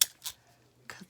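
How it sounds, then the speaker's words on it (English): Scissors snip through a paper tag in two quick, crisp cuts near the start, then a third cut after a short pause, close and fairly quiet in a still room. "I'm just going to take these scissors and cut this off."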